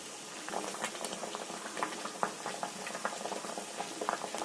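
An egg poaches in a pan of boiling water. Close, continuous bubbling and popping, with an irregular patter of small bursts throughout.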